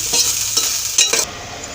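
A spatula stirs fried meal maker soya chunks in a pan: a few close scraping strokes, roughly half a second apart, over a soft sizzle before the sound settles into a steady hiss.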